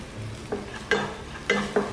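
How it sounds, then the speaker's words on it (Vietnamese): Minced garlic and shallots stir-fry in a hot pan, about to be cooked with beef and asparagus. A steady close sizzle runs throughout, broken by four sharp scraping stirs of a utensil against the pan. "Cho tỏi với hành tím hồi nãy đã băm rồi á,"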